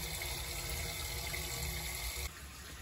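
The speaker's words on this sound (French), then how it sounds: "on allume l'eau de refroidissement" Cooling water turned on at a continuous rectification pilot plant, a steady rushing flow that drops to a quieter, thinner stream near the end.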